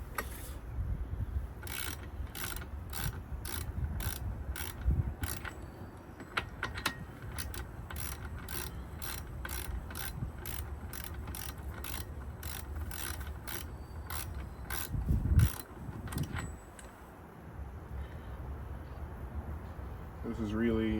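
A ratchet clicks in quick bursts while removing the propeller nut on a Mercury 150 HP outboard on a Bayliner VR, with repeated sharp mechanical clicks and clatter throughout and a person talking over it.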